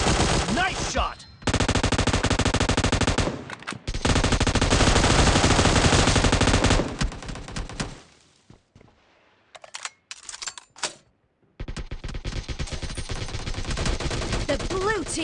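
Rapid automatic gunfire in the video game PUBG, dense loud bursts lasting several seconds each, separated by brief pauses and a quieter gap with scattered single shots.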